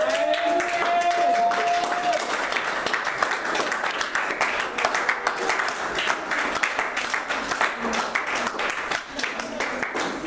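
Church congregation applauding and cheering for a sustained stretch, dense clapping filling the whole span with voices mixed in and a brief tonal sound near the start.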